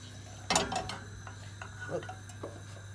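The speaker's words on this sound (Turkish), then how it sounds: "Karıştırarak kaynatacağız." A spoon scrapes and clinks against a pot as ready-made chocolate sauce is stirred on the stove, a few faint, irregular taps over a low steady hum.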